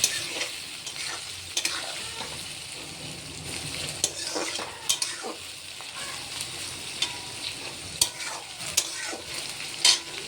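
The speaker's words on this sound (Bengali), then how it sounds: "অল্প করে নাড়াচাড়া করে দিয়ে দেব 3টা কাঁচা লঙ্কা।" Three green chillies fry in a pan for a vegetarian pasta while being stirred, a constant close sizzle punctuated by frequent sharp scrapes and taps of the spoon against the pan.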